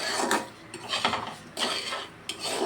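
A spoon scraping and knocking around a pan while semolina halwa with a bay leaf is stirred, in about four rhythmic, close, clattering strokes with no talking.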